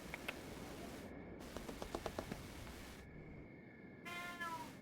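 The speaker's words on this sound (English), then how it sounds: "Oh, you just wanted to meow at me?" A cat meowing, a faint, brief tonal meow near the end over a quiet background with a few soft ticking clicks, no speech.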